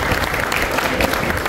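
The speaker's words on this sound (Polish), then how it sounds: "Brawa." Crowd clapping at an outdoor village harvest festival, a dense loud burst of applause filling the short stretch without pause.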